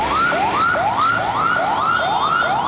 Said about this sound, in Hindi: एम्बुलेंस के सायरन भी डेसिबल मीटर की तरह हमारे कानों को सुर्ख किए देते हैं।